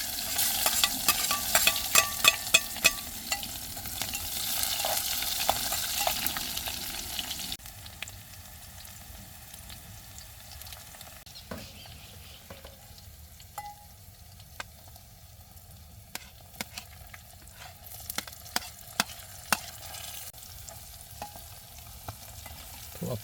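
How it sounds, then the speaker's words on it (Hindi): Onion and green chilli fry in a pan at a camping stove, loud sizzling at first with clattering stirs, then a quieter crackle punctuated by repeated spatula scrapes. "अब डालते हैं प्याज और हरी मिर्च।"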